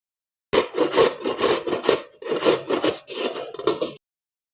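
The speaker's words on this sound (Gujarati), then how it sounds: "છીણીની મદદથી ગાજરને છીણી લેવાના છે તો આ રીતના આપણે ગાજર છીણી લઈશું" Carrots are grated on a hand grater for carrot halwa, close and loud, with rapid rasping scrapes in quick bursts, then a short pause and a few more rounds of grating.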